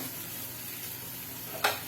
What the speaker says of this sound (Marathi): आलं लसणाची पेस्ट टाकायची. असं परतून घ्यावायचं आहे.